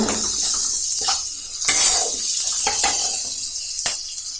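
Water poured into a pot of turmeric-and-salt seasoned vegetarian dal, a steady broadband splashing wash with a few sharper clinks and surges, close and moderately loud, no voices.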